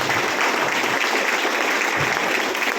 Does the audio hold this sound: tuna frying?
no